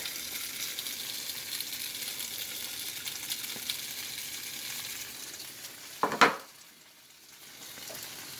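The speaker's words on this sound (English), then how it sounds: "gonna fry the tofu and onions with olive oil mixture" Tofu and onions frying in an olive oil mixture in a pan, a steady soft sizzle with a brief sharp burst of stirring or spatter near the end before the crackle settles lower.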